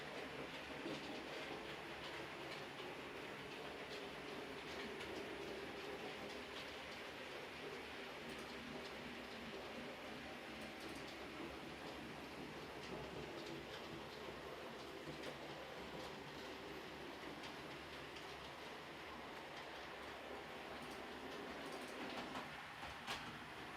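Model pre-grouping locomotives run on a layout track with a faint, continuous rolling rumble and soft rhythmic clicking of wheels over rail joints, low and steady throughout with no speech.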